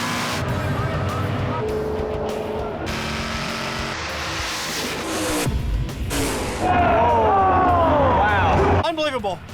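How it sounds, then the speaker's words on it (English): A 1968 Chevelle 383 small block, street-driven, at a drag race, with engines revving and racing loudly, rising and falling in pitch, mixed with crowd and announcer talk over the roar. "On this side, a 68 Chevelle 383 small block. This is a street-driven car."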